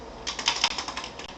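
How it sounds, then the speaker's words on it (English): Keys tapped on a computer keyboard while entering a password, a quick close run of about a dozen light clicks over a second and a half. "Type in the password."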